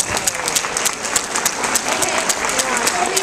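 A seminar audience gives a steady round of applause throughout, the claps dense and even with a few sharper individual claps standing out, fairly close and moderately loud.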